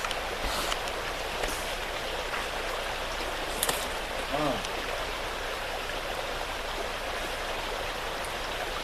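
Creek water flowing in a mountain meadow, a steady broadband rush of moving water close by, with faint occasional splashes and brief voices.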